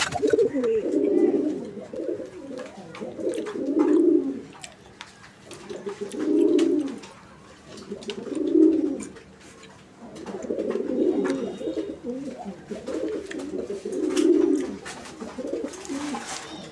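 A pair of male Giribaj pigeons coo again and again in a steady series of rounded, throbbing calls, close and fairly loud, with short pauses between each bout and no talking.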